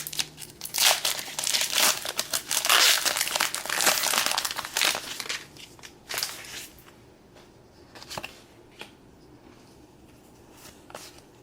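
Crinkling wrapper of a Pokémon Journey Together booster pack being opened, loud close crackling and tearing for several seconds, then easing into scattered softer rustles and card handling.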